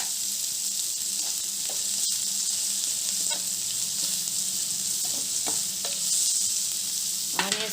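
Onions cooking in a pan with turmeric for egg masala gravy curry, giving a steady close sizzle with scattered scraping stirs throughout; no voices.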